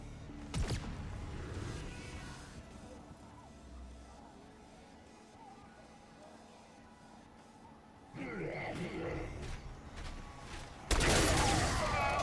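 Gunfire in the Black Ops 6 zombies mode with an AK-74: bursts of shots at the start, a quieter stretch of game ambience, then louder volleys near the end, with speech present.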